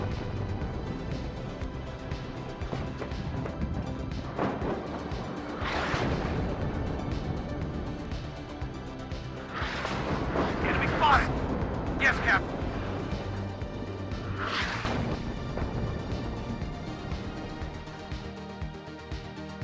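Artillery fire rumbles in the Cold War strategy game Warno, several heavy booms and bursts spread across the stretch while a voice talks over the battle sounds.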